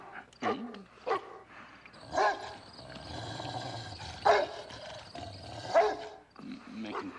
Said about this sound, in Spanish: El perro está bien. Va a ladrar la primera noche, es normal.